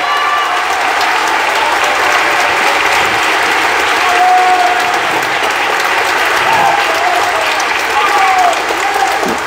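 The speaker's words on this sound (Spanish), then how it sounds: "vamos a dar un fuerte aplauso a todos los niños de Huancavelica" Sustained audience applause after a children's choir concert at a church sanctuary, dense steady clapping filling the whole stretch with a few brief voices calling out through it.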